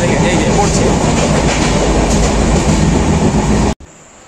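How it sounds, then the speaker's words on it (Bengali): The Darjeeling Mail train pulls out of Bardhaman station and runs, making a loud, steady rumble and rail clatter heard from on board before it cuts off abruptly near the end. "বর্ধমান থেকে ট্রেন এখন ছেড়ে বেরিয়ে পড়লো"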